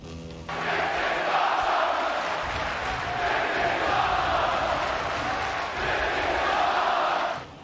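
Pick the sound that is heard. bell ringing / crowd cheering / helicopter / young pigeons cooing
crowd cheering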